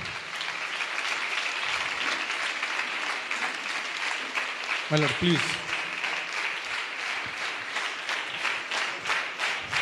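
Sustained applause from a gathered audience welcoming a bishop at a student vicariate meeting, steady dense clapping throughout with a voice speaking over it briefly.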